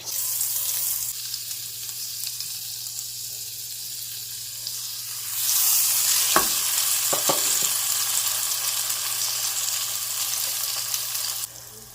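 Sugar-dipped French toast frying over medium heat in a pan, a steady broadband sizzle that swells louder midway, with a few sharp clinks of utensil against pan.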